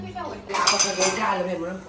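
A large cooking pot set down among other pots and utensils, giving a couple of bright metallic clanks and clinks that ring briefly, close and fairly loud.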